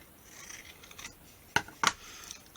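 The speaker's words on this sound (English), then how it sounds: "And then just cut it like that." Scissors snip paper for a Christmas tag, two sharp, close cuts standing out against a quiet room with faint handling noise.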